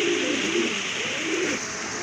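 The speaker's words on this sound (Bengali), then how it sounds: "খুবই সুন্দর এক জোড়া কবুতর, ডিম বাচ্চা করানো" A pair of pigeons, a brooding breeding pair, cooing close by in soft, low, rolling calls that continue steadily over a faint background hum.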